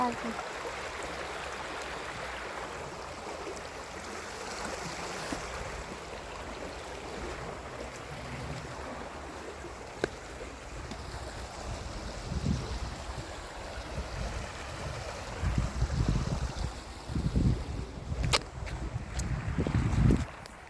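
Water flows in a steady, rushing wash that runs throughout, with some low thumps and bumps near the end.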